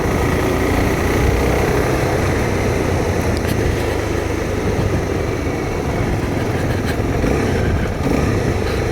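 A new Suzuki DRZ 400 SM motorcycle riding in second gear at low speed, its engine a loud, steady, close drone that holds even throughout without any talking.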